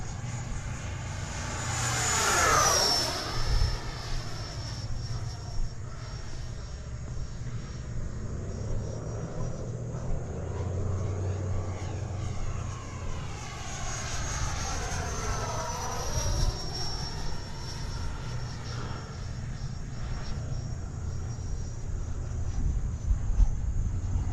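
RC model plane engine in flight, a whining buzz that swells loudly as it passes close, fades into the distance and then sweeps back again over steady wind noise.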